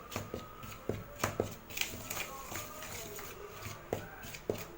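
Soft, close squelching and patting as green gram susiyam batter with salt and turmeric is mixed by hand, coming in uneven bursts of wet slaps and shuffles, fairly faint.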